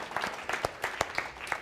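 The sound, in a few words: church audience applause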